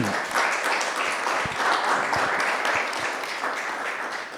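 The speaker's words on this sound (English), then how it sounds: "Can you all hear clapping?" An audience applauds after a presentation at an artist talk, a dense, steady wash of many hands clapping together throughout with no talk.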